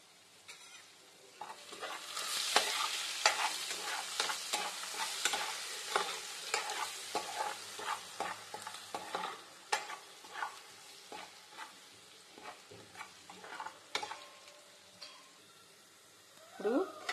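Onions fry with turmeric and salt in a pan, a soft sizzle underneath repeated close spatula scrapes and clicks in an uneven rhythm, fairly quiet overall.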